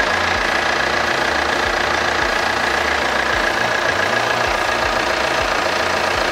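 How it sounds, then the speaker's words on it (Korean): A Hyundai Santa Fe CM 4WD engine idles loudly and close up with the hood open, with a steady, even rumble and a faint rhythmic ticking. "엔진 소리 일정하고 좋습니다."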